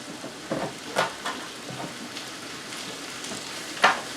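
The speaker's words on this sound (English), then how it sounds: "just to cook that floury taste out. All the while just giving it a nice stir around." A flour roux cooking in a pan for Christmas gravy sizzles gently as it is stirred, with a handful of scraping strokes spread through the quiet frying.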